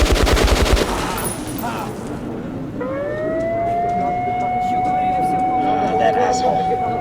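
Close, rapid gunfire in the post-apocalyptic shooter Metro Last Light, a dense burst of shots that cuts off after about a second, followed by a rising siren-like wail under shouting voices.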